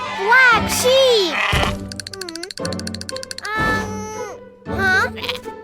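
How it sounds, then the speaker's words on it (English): A cartoon black sheep bleats in several wavering, high-pitched calls with gaps between them, alongside bright electronic tones and excited child-like voices chattering in a lively animated scene. "Whoa! Black sheep!"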